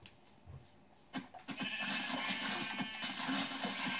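A sheep in the Minecraft video game bleats in a few short, close bursts, followed by a busier, steady game soundscape.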